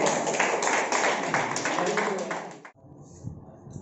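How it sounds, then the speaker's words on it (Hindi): An audience at a naturopathy camp claps together in a burst of applause lasting under three seconds, loud and close, then stops abruptly as a voice begins speaking. "चलिए, जोरदार ताली सब लोग के लिए।"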